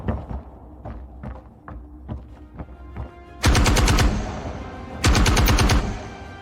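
Scattered thumps and taps lead into two loud bursts of rapid automatic gunfire in the video game Star Citizen 4.0, each lasting about a second, with a ringing tail between them.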